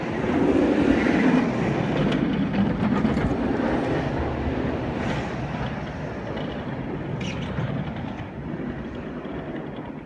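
The new Junker roller coaster at a theme park speeds along its track through inversions, producing a continuous loud rumbling roar with rattling that gradually fades slightly over ten seconds.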